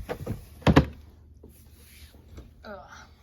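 A makeup drawer slides shut with a pair of solid thunks near the start, followed by small rattles and light handling noises, with a brief voice near the end.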